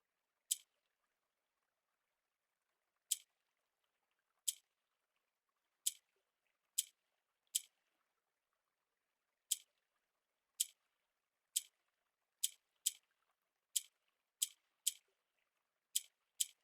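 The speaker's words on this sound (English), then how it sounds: "Is there water in this game?" Sparse, crisp drip-like ticks fall one by one at uneven intervals, about fifteen of them, faint against near silence, from a water sound in the video game Blue Prince.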